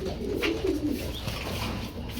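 Club-ringed racer pigeons coo softly in low, burbling phrases, close by but partly buried in steady background noise.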